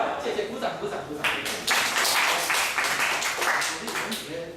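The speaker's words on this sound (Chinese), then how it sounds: "谢谢，鼓掌鼓掌鼓掌。" Audience applause fills a university lecture hall during a talk, a dense burst of clapping that swells after a brief pause and carries steadily to the end, with some talk beneath it.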